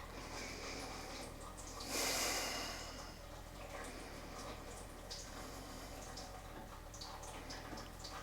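A single slow breath during a yin yoga pose rises softly out of a hissy, quiet room, followed by faint rustles and small ticks.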